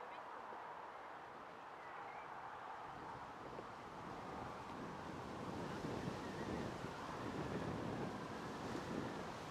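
Steady wind buffeting a microphone outdoors at Manchester Airport, a continuous broadband roar that swells slightly louder in the second half, with no other distinct sounds standing out.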